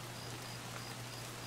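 Rain falls in the shooter game Escape From Tarkov, a constant, even patter and hiss over a low steady hum, with no one speaking.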